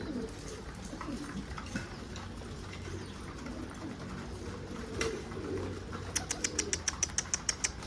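Pigeons in a rooftop loft coo softly in a low rolling murmur, with a brief flutter of wings and a fast run of high clicking chirps near the end.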